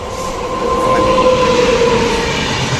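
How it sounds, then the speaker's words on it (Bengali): Gitanjali Express rolling into a station, loud continuous rail rumble with a sustained high wheel squeal and faint clatter, close by and dominating, with no speech heard. "one two eight five nine Gitanjali express এই যে ঢুকে গেছে"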